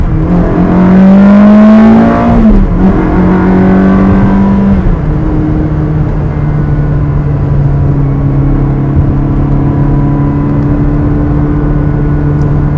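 A 2004 Ferrari 360 Spider engine revs hard and close, climbing sharply, then dropping away as the car slows, settling into a steady lower drone for the rest.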